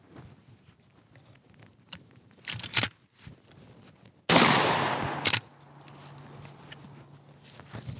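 A Winchester 97 pump action shotgun fires one loud, sharp blast that rings out briefly, preceded by quieter mechanical clicks and handling noises, then a lingering low hum.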